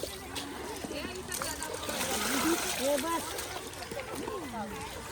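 Rice washed by hand in water outdoors for a wedding, with sloshing and splashing under steady talk from several people.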